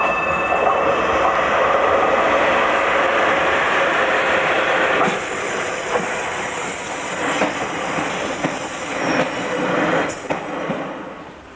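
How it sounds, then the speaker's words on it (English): Diesel multiple unit trains at a 1980s Grimsby station, one departing from the up platform as another arrives on the down platform, a steady rumbling roar with hiss and faint wheel squeal, close and continuous. "As the DMU on the up platform line departs towards Garden Street, another DMU arrives onto the down platform"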